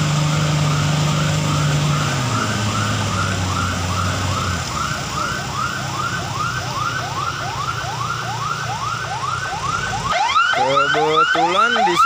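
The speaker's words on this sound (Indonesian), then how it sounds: "Kebetulan di sini ada satu ambulans saya yang mau ke Medan." An ambulance siren on a congested, narrowed mountain road in Batu Jomba, bound for Medan, wails in a fast repeating rising sweep, loud and close, over engine rumble, shifting to quicker yelps near the end.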